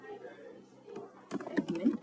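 A quick run of keystrokes typing a password on a computer keyboard during an admin panel setup, a dense burst of clicks arriving late and fairly close under a low background hum.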